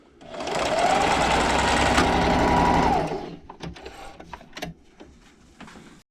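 A sewing machine runs fast and loud for about two seconds while stitching fabric for a hair scrunchie, then stops, leaving faint clicks and handling noises.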